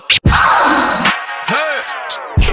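Short bursts of turntable scratching, with quick rising and falling swipes and sharp cuts between them, loud and close over a backing beat.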